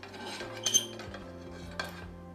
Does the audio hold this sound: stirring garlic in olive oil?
yes